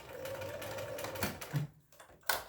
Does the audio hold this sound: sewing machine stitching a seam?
yes